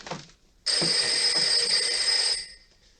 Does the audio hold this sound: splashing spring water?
no